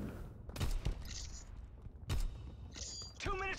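Gunfire in Call of Duty: WWII, a few sharp shots in short separated bursts with mechanical clicks and rattles between them, moderately loud.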